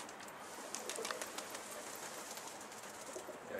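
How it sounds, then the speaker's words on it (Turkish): A pigeon sounds faintly outdoors, its soft cooing barely rising above a steady background hiss. "Kuş arkadaşlar. Şuralarda bir yerde uçuyor."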